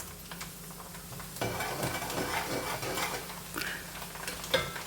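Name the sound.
rice grains sizzling while frying in a pan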